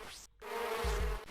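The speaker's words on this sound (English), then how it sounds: "You just get all this bee buzzing going on." Buzzing bees in the Amiga AGA platformer Zool drone loudly and continuously in the game audio, an insistent insect hum with a short dropout near the start.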